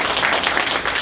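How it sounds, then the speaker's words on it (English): Dense, steady applause from an audience at a New Orleans event, a continuous wash of many hands clapping at even loudness through the whole second. "So give yourselves a round of applause."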